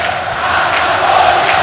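Flamengo supporters roar in the stadium during the 2008 Carioca championship final against Botafogo, a dense, steady crowd din with swelling cheers and no commentary over it.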